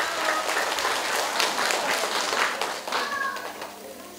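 Audience applause at a ceremony awarding top-scoring school pupils in Udești, a crowd clapping steadily, fairly loud and close, before tapering slightly toward the end, with a faint high tonal squeak partway through.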